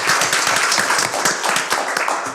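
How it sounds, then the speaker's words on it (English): A crowd applauding at a school board meeting, dense rapid clapping from many hands, loud and sustained from start to finish. "could we please give Alan a huge round of applause for his accomplishments?"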